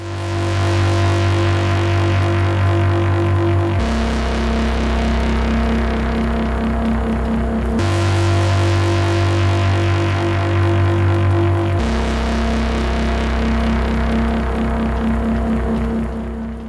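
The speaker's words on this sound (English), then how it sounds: "we're going to be making a sci-fi sounding bass pad" A sci-fi bass pad synthesizer patch built in Massive with unusual wavetable playback, sustaining loud and steady with a deep droning low end, shifting chords roughly every four seconds, no voices.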